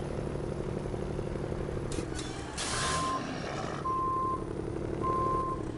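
A Kenworth truck in the SnowRunner video game, its engine droning steadily while reversing beeps sound in a slow regular pattern and a burst of air-brake hiss cuts through midway.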